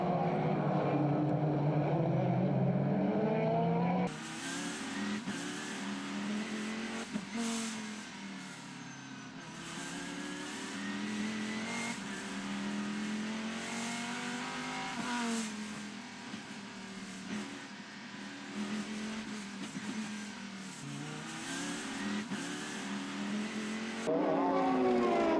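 GT race cars in the 2005 FFSA championship roar past in a series of rising and falling engine sweeps, some near and loud, others more distant, as several cars pass in succession.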